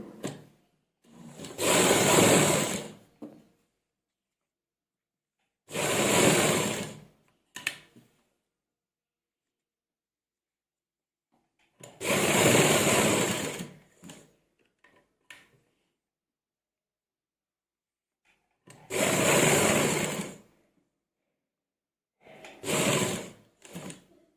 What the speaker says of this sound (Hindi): इस तरह से पलटने के बाद इस पर कच्ची सिलाई लगाएंगे।